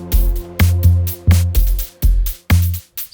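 HOBBES micro sequencer playing its Auto Road electronic drum pattern: punchy, loud kick-heavy hits with bright hats in a steady repeating groove, close and alone with no talk.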